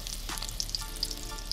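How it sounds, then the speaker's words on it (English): Surf perch fish frying in a pan on low heat, a soft, steady sizzle with faint crackling pops, close and quiet, alone without talk. "It's sizzling on low heat."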